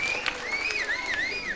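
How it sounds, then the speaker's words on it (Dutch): Studio audience applause at a 1992 television variety show: steady, dense clapping fills the whole short stretch, with a wavering whistle-like tone gliding over it. "Ja, dan wordt het nu... even applaus voor Gerrit."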